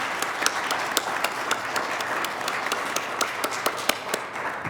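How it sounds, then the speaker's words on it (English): Applause for the younger members at an annual question box service, a congregation clapping steadily with scattered sharp individual claps standing out over the dense patter throughout. "let's give them a round of applause"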